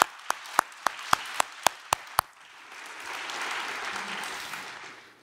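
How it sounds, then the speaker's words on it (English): At a conference closing session, about eight sharp, evenly spaced claps ring out close by, then give way to a softer, diffuse wash of applause from the wider audience further off. "Please give them a round of applause as well."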